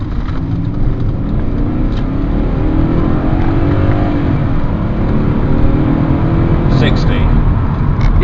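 A BMW E39 535i V8 engine roars steadily under hard acceleration in a 0-60 run, a deep, loud rumble that holds for several seconds with little pause.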